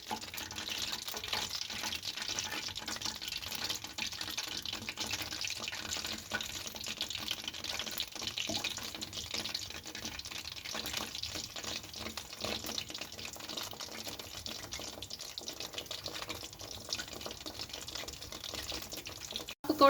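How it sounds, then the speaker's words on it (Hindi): Pakora fritters sizzle steadily in hot mustard oil, a dense continuous bubbling hiss close by with no talk over it. "अब मैं इसमें यूं पकौड़े डालती जाऊंगी।"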